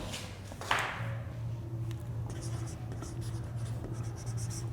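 Chalk or marker writing on a board during a chemistry class, a run of scratchy strokes and taps after an initial knock, heard beneath a man's steady speech.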